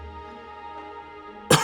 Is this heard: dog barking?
no